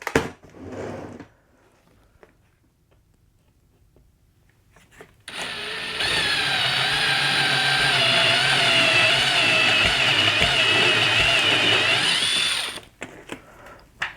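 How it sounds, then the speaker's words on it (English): A power drill with a step drill bit boring holes of about three-quarters of an inch for an emergency strobe light box, a loud, steady high whine running for several seconds after a brief start and pause. "I'm using the step bit, so we can kind of go slowly"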